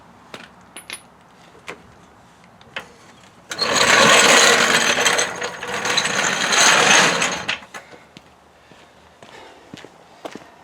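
A jack lowers a Mustang GT, opening with a few scattered clicks and then a loud, steady rush of hissing, grinding release lasting about four seconds, followed by more faint clicks.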